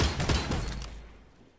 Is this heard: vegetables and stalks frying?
no